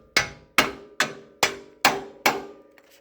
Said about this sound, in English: now I'm going to knock this out with a hammer